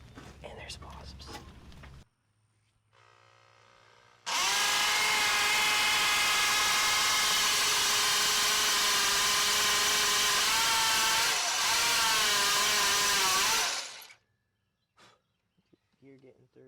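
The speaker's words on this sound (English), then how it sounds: "we can get the right angle to drill out the broken bolts inside here" After brief clattering and a soft hum, a loud drill whines steadily for about ten seconds, drilling out broken manifold bolts on a 1965 Ford F350 352 FE engine, close by, pitch wavering slightly before it stops.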